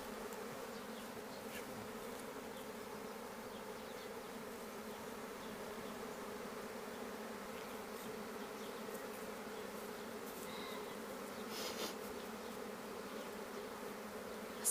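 Honey bees from a cast swarm buzz steadily around a swarm basket, a soft, continuous droning hum of many insects with occasional individual bees passing closer, no voices.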